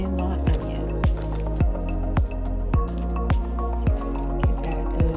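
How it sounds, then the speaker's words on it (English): Bell peppers and onions drop into a pot of water while cooking, giving a steady run of wet plops and drips at a regular rhythm, close and clear, with no talk. "I add my bell peppers to the water and my onions."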